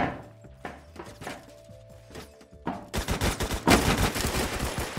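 Rapid automatic gunfire bursts in Roblox Phantom Forces, a sparse shot or two at first, then dense, loud overlapping fire from about the three-second mark onward.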